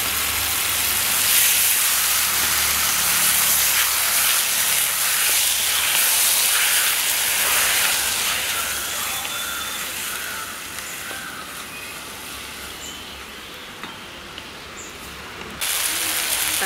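Finely chopped tomatoes fry with onions in a pan, producing a loud, continuous broad hiss and crackle that eases slightly partway through.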